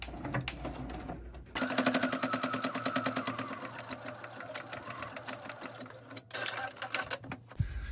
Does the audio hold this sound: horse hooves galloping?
no